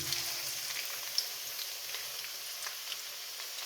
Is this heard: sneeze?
no